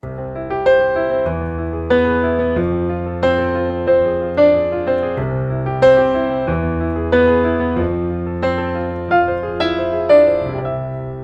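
Piano chords play in a steady, bouncing rhythm at a brisk tempo, bass notes and upper chords alternating through a repeating progression.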